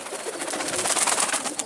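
Soft pigeon cooing and fluttery bird calls blend into a steady, airy background hiss, fairly close and continuous.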